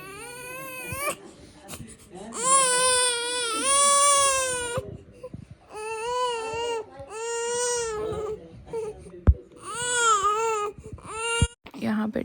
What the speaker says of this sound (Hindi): यहाँ पर जी मेरा बेबी जो है वो रो रहा था वीडियो में